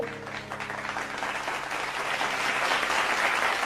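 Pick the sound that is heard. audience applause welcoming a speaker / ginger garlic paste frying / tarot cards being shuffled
audience applause welcoming a speaker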